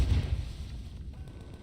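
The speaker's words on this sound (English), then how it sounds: "I see explosions all over the tank I'm in, and other tanks' explosions." Tank explosions in Empyrion Galactic Survival: a heavy booming blast at the start, then a rumbling, roaring decay of loud low-frequency noise and debris through the rest, with no voices.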